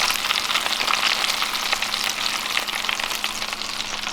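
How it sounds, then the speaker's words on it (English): Steady, close sizzling and crackling of chicken frying in a pan, continuous with no pauses and no voices. "sounds like this chicken's frying up"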